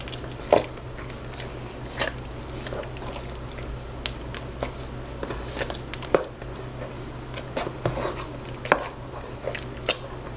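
Softened butter sticks are sliced on a cutting board, giving soft knife taps and dull thuds, scattered and irregular, close by in a quiet kitchen.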